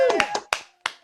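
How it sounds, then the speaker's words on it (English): A few scattered hand claps from a small virtual comedy-show audience, four or five sharp separate slaps spaced irregularly over about a second, close and fairly loud, with a voice speaking at the start. "Lenny Schmidt, everybody, clap."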